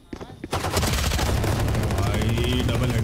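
Rapid, loud automatic gunshots from a shooter video game fire in a dense continuous burst after a brief quiet moment, close and sharp, with faint speech underneath.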